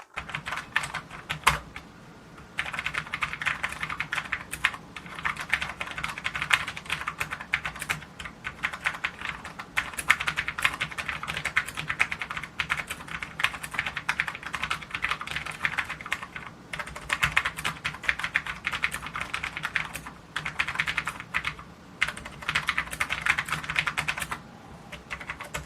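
Steady typing on a Corsair K70 RGB MK2 Low Profile mechanical keyboard with red switches, fast clacky keystrokes running almost continuously with a few brief pauses, close and clear.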